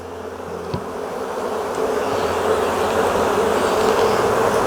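A dense, steady buzzing of many honey bees at a hive fills the clip close by, swelling slightly louder as it goes, with no talking.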